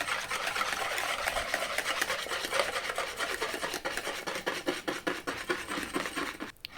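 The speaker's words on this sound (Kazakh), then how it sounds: "жақсылап тағы да араластырып аламыз" A spoon stirs pancake batter mixed with salt and baking soda in a bowl, a close, steady scraping rasp that grows into a quicker rhythmic beat of strokes before it stops abruptly.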